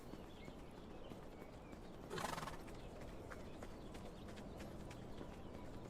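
Horses in a barn in the video game HumanitZ: faint clip-clopping hooves and movement, with one brief louder neigh early on, all low in level against a quiet steady background.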